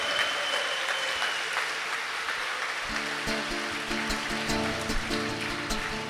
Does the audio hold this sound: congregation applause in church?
yes